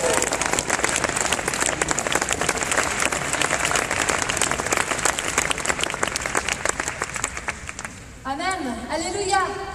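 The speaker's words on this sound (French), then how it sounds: "Vous pouvez applaudir Elisabeth Roux." Audience applause at a French church gathering, loud dense clapping from a crowd for about eight seconds, fading out before a voice begins speaking.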